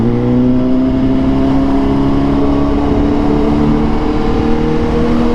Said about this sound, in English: just listen to this bike in the tunnel